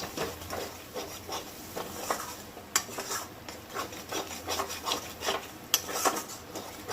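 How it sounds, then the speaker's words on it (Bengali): Spice paste for prawn malaikari is sautéed in a pan, a close scraping and rubbing of a spatula against the metal repeating in uneven strokes over a faint sizzle. "এবারে যে মশলাটা দিলাম, এই মশলাটা কিন্তু আমি কষাতে থাকবো"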